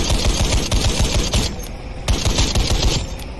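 A vehicle gunner's machine gun hammers out a continuous rapid stream of shots in a video game, loud and close, with heavy echoing booms underneath and no talk.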